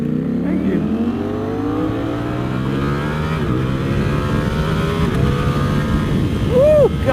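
A Ducati Streetfighter motorcycle ridden on the road, its engine droning steadily and rising in pitch as it accelerates through the gears. The engine is close and loud throughout, with a rider's voice briefly over it.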